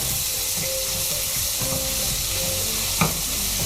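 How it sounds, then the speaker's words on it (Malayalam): Chopped tomato and spices sizzle steadily in a hot pan for a chickpea curry while a spoon stirs with soft scrapes and one sharper knock, close by and with no voices. "ഇതൊന്ന് നന്നായിട്ട് വഴറ്റുക"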